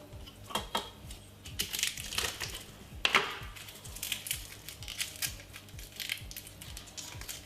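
Three garlic cloves crushed for garlic bread, a close series of sharp crunching and clicking cracks in irregular bursts, with one louder snap partway through.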